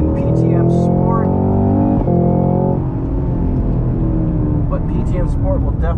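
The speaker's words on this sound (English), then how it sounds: "What a glorious V8 sound coming out of this thing." A 2022 Cadillac CT5-V Blackwing V8 engine revs hard and climbs through the gears, a loud deep burbling roar with a gear change midway, heard from inside the car under steady talk.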